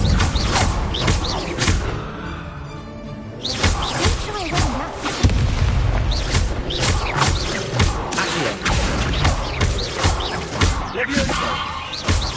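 Combat spells crackle and burst in a Hogwarts Legacy duel, including the Incendio fire spell, a busy stream of sharp magical impacts, whooshes and thuds, with a game character's voice breaking in between them.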